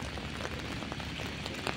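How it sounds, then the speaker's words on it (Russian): Steady rain falls at night, a dense, even patter of drops on surfaces with scattered sharper taps, close and continuous with no voices. "Такой звук дождя."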